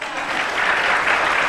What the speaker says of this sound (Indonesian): ya silakan yang mau tepuk tangan.